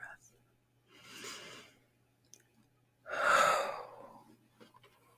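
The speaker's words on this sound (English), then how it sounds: "Deep breath." Two deep breaths during a tarot card reading, a softer breathy inhale followed by a louder, fuller exhale up close, with no talking between them.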